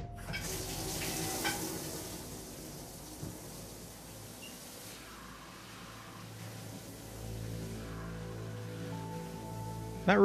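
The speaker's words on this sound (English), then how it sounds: "Take a shower." Shower water running in the video game Deus Ex: Mankind Divided, a steady hissing spray with faint splashing that holds evenly throughout, quiet and unaccompanied by speech.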